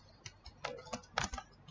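A computer keyboard is typed on in a few light, quick taps, irregular and close, heard alone during a brief pause without speech.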